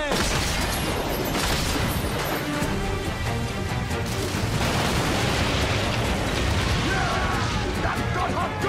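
Ship cannons and explosions in a naval battle video game make a dense, continuous roar of blasts, crashes and rumbling booms that stays loud throughout, with no voices.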